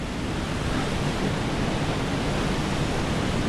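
Rushing water at Stafford Falls or Chinook Cascades, a steady broadband roar that stays even and unbroken throughout, close and loud with no voices.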